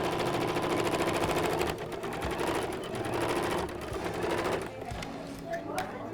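A sewing machine runs a 5/8-inch seam on fabric for a care cap, a fast close mechanical rattle of stitching that pauses briefly and restarts for back stitches.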